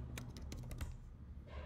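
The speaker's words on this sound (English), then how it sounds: "The user can see as I am typing in real time." Quick, light clicks of fingers typing on a computer keyboard come in an uneven burst of about eight keystrokes, close and quiet, with no one speaking.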